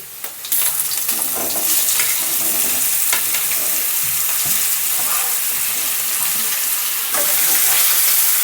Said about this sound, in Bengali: এরপর আমি ধুয়ে রাখা লাউ লাউগুলো দিয়ে দিচ্ছি